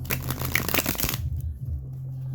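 A deck of cards is riffle-shuffled up close, a dense burst of rapid flapping and clicking for about a second before it settles into quiet handling noise.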